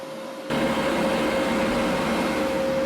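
Shielding gas for a Weldpro TIG 200 welder bursts on and flows through the flow meter as a steady, loud hiss with a faint constant hum under it.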